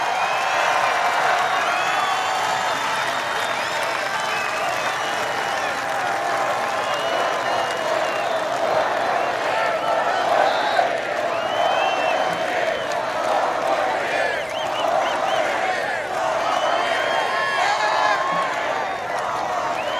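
Dense rally crowd in Tampa, Florida cheering and applauding steadily throughout, a loud sustained roar of voices and clapping with no pauses.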